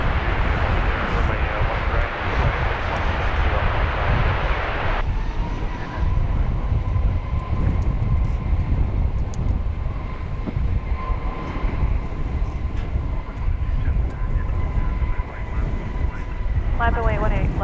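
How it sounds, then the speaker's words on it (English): An American Airlines Airbus A321neo arriving from Portland, Oregon at Dallas Fort Worth, its steady engine roar and broadband rumble holding throughout, a loud hiss fading after the first few seconds, with a voice talking over it. "From Portland, flight 2496 and Airbus A321neo."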